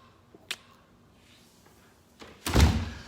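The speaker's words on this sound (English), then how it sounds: "as we come in this model, close the door." A house's front door swings shut during a walk-through of a model home: a sharp latch tick comes first, then a heavier thud with a brief rumbling decay, fairly close in an otherwise quiet room.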